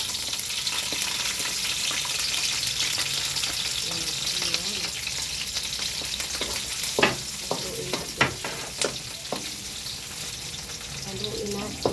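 Onion, garlic, ginger and green chili sauté in a hot pan for a chicken sinigang soup, a steady bright sizzle with a few clinking stirs of the spoon toward the end.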